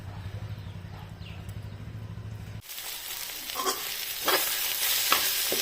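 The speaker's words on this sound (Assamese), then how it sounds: "আৰু এফালে বনাই আছোঁ কলডিলৰ ভাজি।" Banana flower stir-frying in a pan, a steady broadband sizzle with scraping stirs; a low hum drops out partway through and the frying grows a little louder, with a few sharper crackles near the end.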